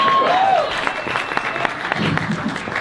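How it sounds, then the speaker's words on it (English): Applause from a live audience at an on-stage talk, sustained and fairly close, with a mic squeal at the start and crowd voices mixed in. "Give her a round of applause."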